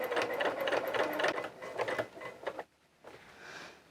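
A sewing machine runs steadily while top stitching coveralls, a close, rapid mechanical whir and clatter that slows and stops near the end, followed by a faint softer noise.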